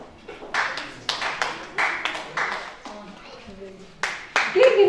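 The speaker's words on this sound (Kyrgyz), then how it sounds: "Келиңиздер бүркүрөтүп кол чаап, бийлесеңиздер дагы уруксат." An audience claps hands at an International Mother Language Day event, in short bursts of rhythmic clapping spaced about a second apart, fairly close and sharp, with a voice speaking between the claps.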